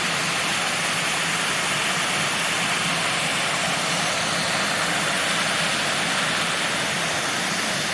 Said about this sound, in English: So these are really nice falls.